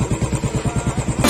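A Royal Enfield Standard 350 BS6 single-cylinder motorcycle engine idles with a steady, loping thump, about nine even beats per second, close and loud with no voices over it.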